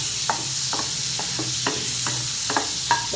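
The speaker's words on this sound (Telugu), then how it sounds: "ఇప్పుడు నేను బటర్ వేస్తానండి" Butter melts in a pan for oil-free chicken wings, giving a steady high sizzle overlaid with repeated light scrapes and taps of a stirring utensil, close and alone.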